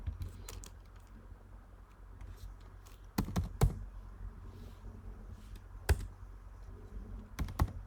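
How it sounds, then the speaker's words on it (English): Someone types on a computer keyboard, scattered soft key taps and a few sharper clicks in short irregular bursts, quiet and close against low background hum. "Here I type my name."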